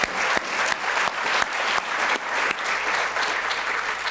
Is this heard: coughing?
no